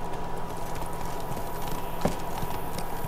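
Roach, a horse in The Witcher 3, clip-clops along in a steady rhythm of hoofbeats, moderately close, over a constant ambient hum.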